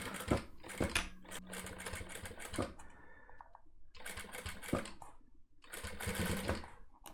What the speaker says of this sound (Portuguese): Agora eu vou fazer essa costura aqui. Reforça o começo.